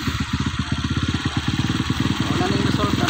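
A motorcycle engine idles with a steady, rapid low putter, close by and fairly loud, with faint crackle over the rhythm.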